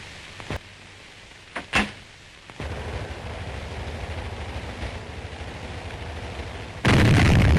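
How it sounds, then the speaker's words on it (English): An artillery battery firing for effect: a few sharp booming reports early on, followed by a sustained rumble and a louder blast near the end. "This battery is firing for effect"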